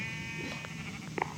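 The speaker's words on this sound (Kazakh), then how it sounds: "Астында қойлар бар." Sheep bleat briefly from below a built structure, a short faint call or two over steady background hum.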